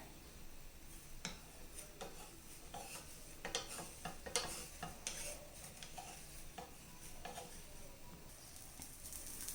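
A dosa sizzles in a hot pan with a few drops of ghee, a steady close frying hiss broken by light scraping and tapping of a spatula as it is turned, with no talking.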